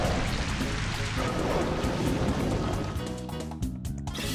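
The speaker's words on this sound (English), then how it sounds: "Pop your Rain Dance." Rain Dance effect from Pokemon Colosseum: a dense, steady wash of heavy rain hiss fills the whole stretch, loud and unbroken, with no speech over it.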